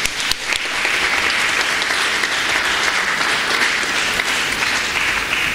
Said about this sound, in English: I think we should clap again for him.